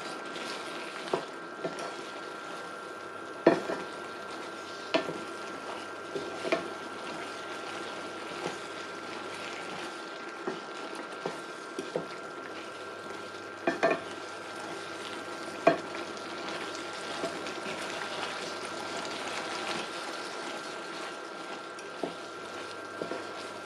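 Paneer and peas curry with curry masala and whipped cream being stirred and mixed in a pan, with steady soft sizzling and repeated spoon scrapes and knocks against the pan, close and alone without talk.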